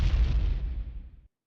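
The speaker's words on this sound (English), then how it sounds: "So we have here an explosion" Explosion sound effect from the original Wipeout racing game: a single loud, close boom with a heavy low rumble that decays steadily over about a second before cutting off abruptly.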